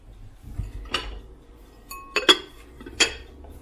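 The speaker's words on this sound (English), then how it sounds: "I am going to do some dishes." Dishes being washed by hand: plates, glasses and cutlery clink and clatter close by in a few sharp bursts over a faint running background, no talking.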